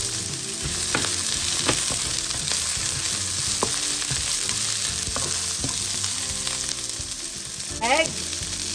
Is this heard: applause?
no